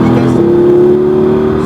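A car accelerates hard on the Circuit du Laquais race track, its engine giving a loud, steady rising drone close by inside the cabin, heard alone for under two seconds.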